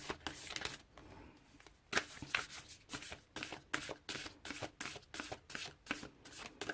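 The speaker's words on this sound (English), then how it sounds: "let's see what Whispers of Love Oracle card deck have to say" A Whispers of Love oracle card deck is shuffled by hand up close, a quiet rhythmic series of crisp riffling and slapping bursts, steady and repeated for several seconds with no talking.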